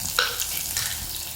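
Onions sauté in a pan with ginger, garlic and curry leaves, giving a steady close sizzle with a brief scrape of stirring near the start.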